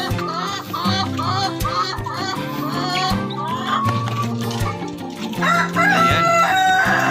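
Hens clucking and a rooster crowing inside a free-range chicken house, loud and continuous, mixed with steady background music.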